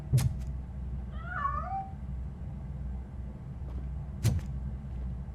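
A cat in RoboCop Rogue City gives a single short, distinct meow in the middle, over a steady low hum, with a couple of sharp knocks before and after.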